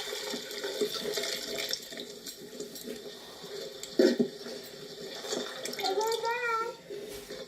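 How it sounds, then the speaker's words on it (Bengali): Goat-meat boiling water is poured into a cooking pot for a cauliflower goat curry, a continuous splashing pour with a brief louder slosh midway; someone speaks faintly over it. "এই যে খাসি মাংস সেদ্ধ হলো, এই জলটা কিন্তু আমি ফেলে দেবো না, রান্নাতে পরে লাগবে, জল সমেতই ঢেলে দেবো।"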